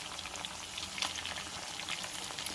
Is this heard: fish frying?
yes